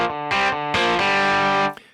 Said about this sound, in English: So that is distortion